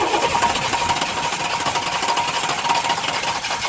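Crane truck engine cranking as it tries to start, a steady rapid churning drone running continuously without catching, close and loud with no talk.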